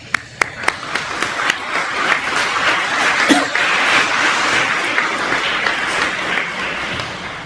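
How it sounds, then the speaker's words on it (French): A few sharp, close claps open a swell of steady audience applause that stays loud through the end, at the inauguration of a first learner swimming pool in Mauritius. "je demanderai bien sûr que vous applaudissez ces gens."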